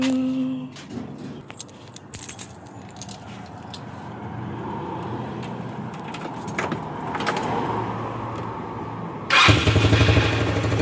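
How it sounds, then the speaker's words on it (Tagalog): A motorcycle engine turns over and catches, starting up loudly near the end after a stretch of idling traffic noise and jangling keys. "Umandar agad ang motor."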